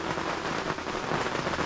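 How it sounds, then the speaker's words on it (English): Steady rain pours outside a parked FJ Cruiser during an afternoon downpour in the Skagit Valley, a dense, continuous hiss with scattered drop patter, even and unbroken throughout. "Listen to that rain out there just coming down."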